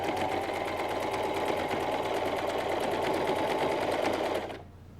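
A sewing machine stitches a salwar in one fast, even mechanical run of needle strokes, close and moderately loud, stopping abruptly near the end.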